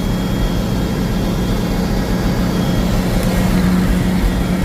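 A 1963 Ford F600 truck engine running at a very high idle, a steady, loud low rumble with constant drone that holds evenly throughout with no breaks.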